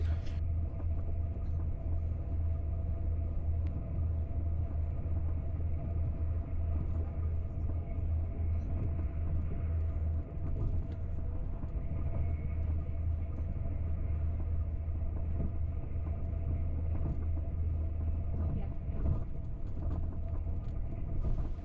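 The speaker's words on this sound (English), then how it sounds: "our train will transition into an 8-kilometer long tunnel instead" A DSB type ET train runs into an 8-kilometre tunnel, producing a steady, enveloping low rumble with constant mechanical drone and no breaks, heard from inside the carriage.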